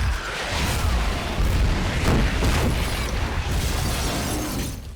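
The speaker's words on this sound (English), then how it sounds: "McClane gets into a gunfight which leads to an explosion." A loud, dense blast of film action noise from Die Hard, with a gunfight leading to an explosion: heavy booming, crackling debris and sharp bursts continuing steadily for several seconds.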